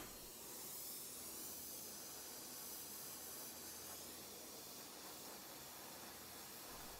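A gas torch heats the middle of a 3/16-inch steel round bar held in a vise, giving a steady, even hiss that continues without a break.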